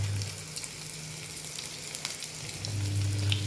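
Spices and food fry in a pan, a close, steady sizzle with crackles and a low hum underneath, without any talk.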